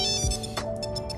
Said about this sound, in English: you're gonna hold it until you hear it make a little song